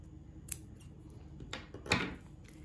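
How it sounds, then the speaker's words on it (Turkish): Scissors snipping excess yarn during knitting work on a cardigan, a few faint, sharp separate clicks and a slightly louder snip near the end, in a quiet room. "Ve ondan sonra fazla ipi kesiyorum."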